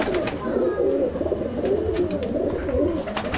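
A female Kasuri pigeon sitting on eggs gives soft, low, rolling coos in a continuous run, close by and fairly quiet.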